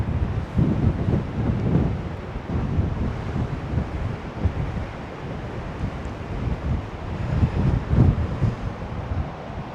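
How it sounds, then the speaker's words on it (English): Strong wind buffets the microphone on a cliff top above the sea, a loud, continuous low rumble swelling in irregular gusts. "Too windy for that, too windy for that."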